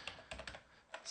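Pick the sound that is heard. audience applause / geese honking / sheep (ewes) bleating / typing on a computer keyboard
typing on a computer keyboard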